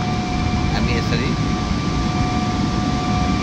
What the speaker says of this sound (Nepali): अब यो प्लेन उडिरहेको छ, दौडिरहेकै छ प्लेन चाहिँ